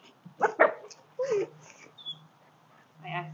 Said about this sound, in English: This is the sweetest dog in the world